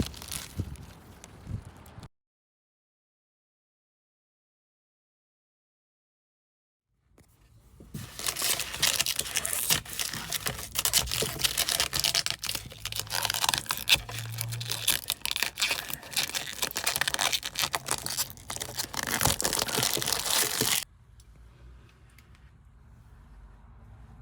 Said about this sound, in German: Nach minimalem Lösen der Schiene ließ sich die Folie in diesem Bereich gut entfernen.